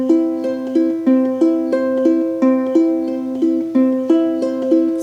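Fingerpicked chord on a stringed instrument, played as a steady repeating arpeggio of clear plucked notes, close and loud, with no other sounds.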